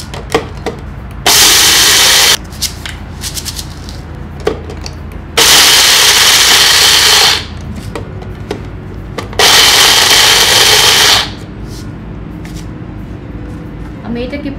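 An electric kitchen grinder coarsely grinds chickpeas and masoor lentils in three loud, steady bursts of a couple of seconds each. Quieter gaps with faint handling noises fall between the bursts.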